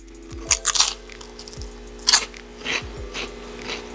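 Homemade barbecue pork rinds crunched between the teeth in several loud, close bites, each a sharp brittle crackle followed by softer chewing, with short pauses between.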